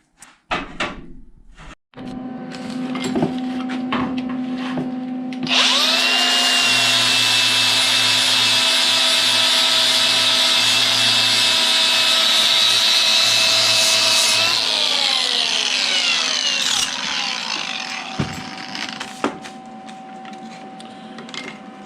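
Metal is ground to fit a transmission adapter for a Chevy T5 gearbox on a 318 Dodge engine in a 1952 Studebaker truck. A power grinder spins up and whines loudly for about ten seconds, then winds down.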